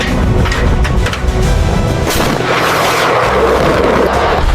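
A missile launches in a cinematic F-35B versus Su-30 jet dogfight as a loud, continuous roaring blast with heavy rumbling lows and a hissing rush that builds in the second half.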